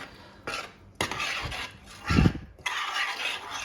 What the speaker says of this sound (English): Going to give it a little stir around.